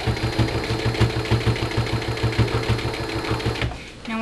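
Domestic sewing machine stitching fabric for a sugar glider pouch, a steady rapid mechanical whir with regular needle thumps, close and loud for about three and a half seconds before it stops abruptly.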